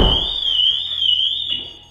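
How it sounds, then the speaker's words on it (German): A 2022 Pössl Summit 540 Prime camper van's alarm, triggered by opening the passenger door: a loud, continuous high-pitched electronic tone, steady and close, wavering slightly in pitch, with a faint thump at the start. "öffnet die Beifahrertür, ist Alarmanlage sofort an"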